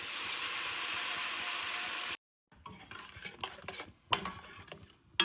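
A spoon scrapes and stirs ground masala into ivy gourd curry in a pan, with close metallic clinks and sizzling, broken by a short silent pause before the stirring resumes.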